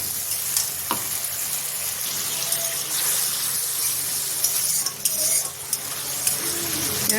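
Water is poured into a pan of frying soybean kofta masala, which sizzles loudly and steadily while a spoon stirs and scrapes with occasional clinks.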